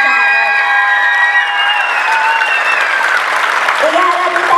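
A big, dense wash of audience applause and crowd noise at a dance group's stage show fills the whole stretch. A voice talks over it, with sustained tones fading in the early part.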